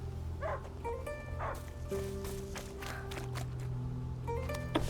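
A dog barks repeatedly in short, slightly distant yips in A Plague Tale: Innocence against a quiet background hum.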